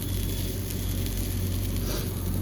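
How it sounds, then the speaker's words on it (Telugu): Goat brain (bheja) fries directly in a pan, giving a dense, continuous close-up sizzle with a steady hiss throughout and no voices. "ఇప్పుడు డైరెక్ట్గా ప్యాన్ మీద ఫ్రై అయితే చేసేద్దాం"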